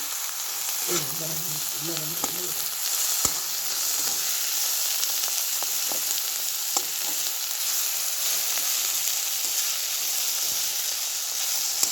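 Tomatoes sizzle in a pan for a bitter gourd curry, with a constant close frying hiss and a few stirring scrapes and clinks, with no talking.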